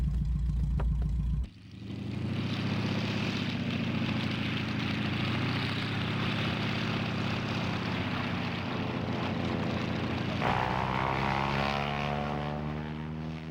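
A light propeller aircraft takes off at the 1993 LAA (PFA) International Air Rally at Wroughton; a loud, close engine roar swells after a short idle and holds steady, its pitch shifting as the plane departs.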